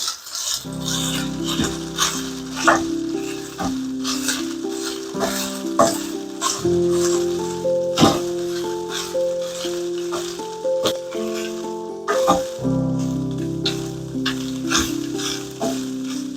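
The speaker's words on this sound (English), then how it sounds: "the meat is ready for the onions. So we're gonna put the onion here." Onions go into a pan of ranchero steak, setting off continuous loud sizzling and crackling frying with occasional rattles and stirring knocks, close throughout, with faint background music.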